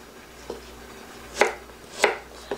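Sharp knife strokes dice carrot on a cutting board for soy-braised quail eggs: four separate knocks, the middle two loudest, spaced irregularly over faint background hiss.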